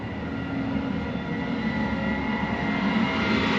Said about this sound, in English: Sounds like a combine, maybe?